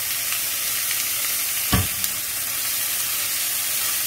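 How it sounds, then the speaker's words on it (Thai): Steady sizzling hiss of broccoli stir-frying in a hot dry wok before any water is added, with a brief scrape or clatter partway through. "ผัดไปก่อนยังไม่หยอดน้ำนะคะเพราะเขาต้องการให้บรอกโคลีหอมกระทะก่อนค่ะ"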